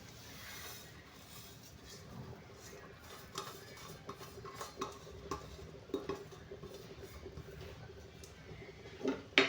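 Semolina (rava) poured into a cooking pan and stirred, giving soft scraping and scratchy stirring sounds with light clinks that grow busier toward the end, fairly quiet throughout.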